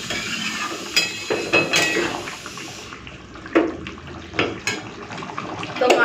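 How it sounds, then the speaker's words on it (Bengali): Katla fish curry simmers in a pot, giving a steady close bubbling and soft sputtering with scattered light clinks of utensil on metal throughout. "বেশ মাছগুলো দিয়ে দিয়েছি, একটুখানি ফুটে যাক"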